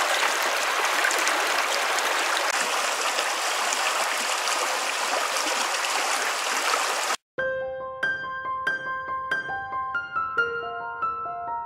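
A wild river near a campground in Strathcona Park rushes steadily and loudly for about seven seconds, a dense continuous wash of water with no voices, before cutting abruptly to music.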